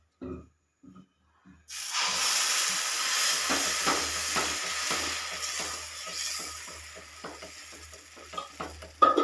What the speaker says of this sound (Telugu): చూడండి వేస్తున్నాను దోశ.